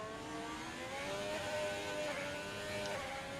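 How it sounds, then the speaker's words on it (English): A Haas Formula 1 car engine is pushed hard at the Azerbaijan Grand Prix, giving a continuous high-pitched whine that climbs and shifts in pitch, loud and steady throughout with no talk. "you can really hear that engine being pushed on the Haas"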